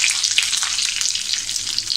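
Curry leaves crackling in hot oil with mustard seeds and cumin, a tempering on medium heat for a lentil curry, giving a loud close continuous sizzle with small pops throughout.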